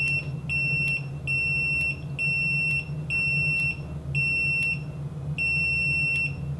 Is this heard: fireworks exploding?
no